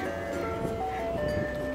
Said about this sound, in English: There's an ice cream truck! I need ice cream! It's an ice cream truck!